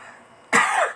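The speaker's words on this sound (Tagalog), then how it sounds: "inuubo ako" A single cough, loud and close, bursts out after a stretch of quiet room noise.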